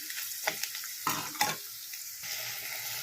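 Egg masala curry sizzles in a pan while a spoon stirs it through, with several scraping strokes and bumps over a continuous close frying hiss, no talking.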